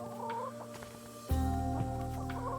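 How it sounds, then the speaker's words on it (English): Chickens cluck softly in a farming video game, with short clucks over a sustained synthetic game drone that grows louder midway, no talk. "We'll just pet our chickens to make sure they're nice and happy."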